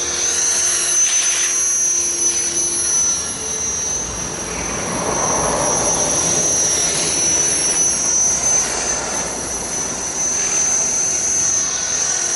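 Steady, loud whine and buzzing rotor wash from a Walkera V450D03 RC helicopter flying close overhead, the pitch holding constant with slight swells as it hovers and moves.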